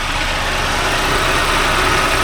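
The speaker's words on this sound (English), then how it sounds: "The engine is back together and running good." A rare Quad 4 engine in a Beretta Z26 idles steadily once warmed up, giving a loud, even, continuous hum with a low rumble throughout and no voices.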